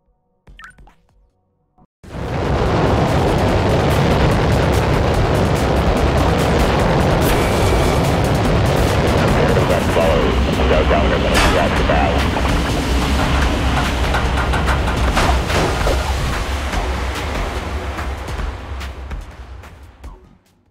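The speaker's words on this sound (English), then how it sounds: "Our rocket is headed into the stratosphere" A rocket launches in the video game Puddle, a loud sustained roar that starts abruptly after a brief quiet moment, holds steady for most of the stretch and slowly fades toward the end.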